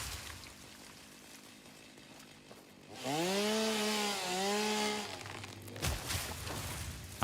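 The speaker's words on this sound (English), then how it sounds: "definitely glad we went for the chainsaw" A video game chainsaw in Satisfactory cutting wood: a hissing idle, then a loud revving whine for about two seconds with pitch sweeps as the blade cuts, followed by a crackling crash.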